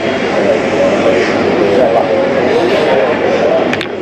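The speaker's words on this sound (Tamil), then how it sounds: "லேண்டிங் ஆக போகுது, தெரியுது, சிங்கப்பூர் டு சென்னை." Steady roar of an airliner cabin on approach to landing on a Singapore to Chennai flight, a loud continuous engine and air hum throughout, with someone speaking over it.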